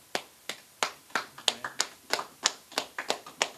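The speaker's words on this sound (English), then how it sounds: "Just clap it up" About a dozen sharp hand claps in an uneven rhythm over three and a half seconds, close and fairly loud, with no talking.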